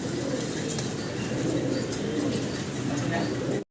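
A large pigeon farm in Bangladesh is filled with many pigeons cooing at once in a dense, continuous murmur. Occasional wing flaps and faint chirps rise from the flock throughout.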